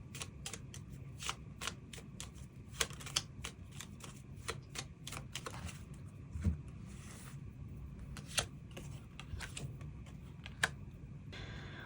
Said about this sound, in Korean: 그럼 5번 분들 추가 카드로 앞으로 나에게 행운을 가져다 주는 것이 무엇일지 그 부분 추가 카드 뽑아보도록 하겠습니다